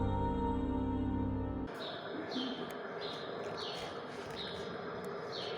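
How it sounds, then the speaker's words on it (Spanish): Small birds chirp at an outdoor museum site, the Ex Teresa Arte Actual museum, giving faint repeated tweets in a steady run over a soft background wash after an earlier droning tone fades. "Los pajaritos que se escuchan no son del video, son del lugar."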